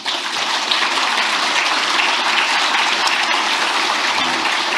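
Sustained applause from a crowd of public officials at a policy talk by President Lee Jae-myung, a steady dense wash of clapping filling the whole stretch, loud and continuous without voices over it.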